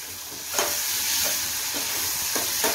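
Garlic, peanuts and dal frying in oil in a pan, a steady close sizzle with a few soft stirring scrapes breaking through.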